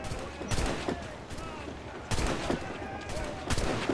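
A swivel gun fires during a ship battle in Assassin's Creed 4, loud booming shots at irregular intervals over continuous crackling gunfire and battle noise.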